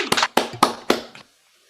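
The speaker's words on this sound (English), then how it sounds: "So let's do a second round of applause" A handful of sharp, close hand claps at an uneven pace, stopping abruptly and leaving silence.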